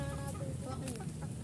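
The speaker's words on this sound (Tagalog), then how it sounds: "May manok." Chickens clucking and chattering nearby amid a busy outdoor background, with a few higher squawks standing out.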